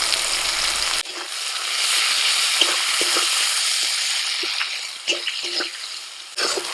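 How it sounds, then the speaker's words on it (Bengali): Chopped onions and four or five green chillies hiss and sizzle in hot oil left from frying potatoes, a steady close crackle with a few stirring scrapes, no voices. "এবার ওই তেলের মধ্যে দিয়ে দিচ্ছি পেঁয়াজ কুচি চার পাঁচটা কাঁচা লঙ্কা"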